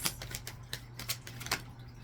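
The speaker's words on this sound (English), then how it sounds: "I'm doing my best to shuffle them" Sticky tarot cards being shuffled by hand, a series of soft, crisp riffling clicks and flicks in an irregular rhythm, close and quiet with no talking.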